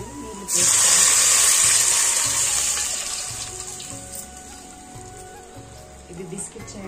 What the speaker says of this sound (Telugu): ఇప్పుడు నీళ్ళు వేసుకోవాలి.